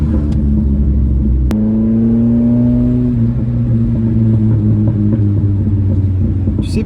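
A first-generation Honda Prelude engine rumbles at close range, then revs sharply and its loud, throaty tone climbs before easing back to a steady drone.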